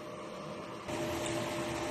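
DTF printer running a head clean, a steady mechanical hum and whir that steps up louder partway through with a faint tonal whine from the pump, heard alone.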